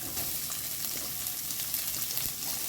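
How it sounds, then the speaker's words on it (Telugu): Onions and green chillies sizzle steadily in hot oil for a fish curry, a close, continuous frying hiss with faint stirring and no voices. "ఆనియన్ కూడా వేస్తున్నాను, కొంచెం ఇవి కూడా ఫ్రై చేసుకోవాలి."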